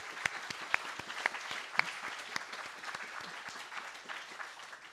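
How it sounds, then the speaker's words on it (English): An audience at a panel discussion claps steadily for several seconds, a dense patter of hands with a few sharper claps standing out, moderately distant and fairly soft. "Let's give another round of applause for them."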